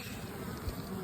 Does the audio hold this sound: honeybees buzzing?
yes